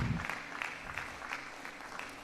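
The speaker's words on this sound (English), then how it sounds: "Please, can we give her a round of applause?" Audience applause after a guest is introduced at an event, fairly faint and distant, a steady patter of clapping across the short stretch with no voices over it.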